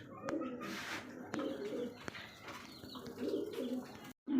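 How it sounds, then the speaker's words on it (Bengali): A giant homer pigeon cooing at a pigeon market: soft, low, repeated coos in short bursts, fairly faint and alone, with light background noise. "দেখতে পাচ্ছেন একটা জায়েন্ট সোহমা কবুতর"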